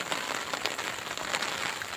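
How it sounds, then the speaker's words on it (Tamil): Steady rain falls on surfaces outdoors, a dense hiss of patter with faint irregular drop taps, moderately quiet and continuous, with no voices. "இதே மழை வந்துக்கிட்டே தான் இருந்தது."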